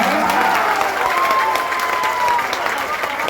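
Audience applause at a Jan Suraaj Party by-election political rally, a dense continuous clapping from a large crowd that fills the whole stretch, loud and steady with some cheering and voices mixed in.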